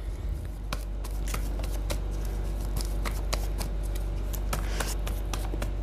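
Tarot cards being shuffled by hand during a reading: a steady run of quick, crisp riffling snaps and soft paper flutters, close and moderately quiet over a low background hum.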